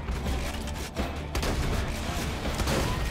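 Rapid, dense gunfire in a Borderlands 2 firefight, loud and sustained bursts of shots with booming impacts and no talk over the shooting.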